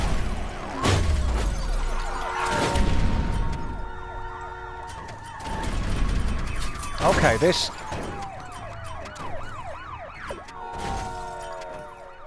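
A police car siren wails in the video game Danger Zone, its sweeping tones repeating over crashes, impacts and loud engine noise, with a voice talking briefly.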